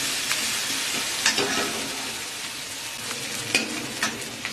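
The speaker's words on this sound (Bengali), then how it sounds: "পেঁয়াজটা ভাজা হয়ে এসেছে, এখন গুঁড়ো মশলাগুলো দিয়ে দিচ্ছি" Ground spices hit hot oil with fried onions in a pan for a pomfret fish curry, giving a steady soft sizzle with occasional stirring clicks and scrapes, no voices.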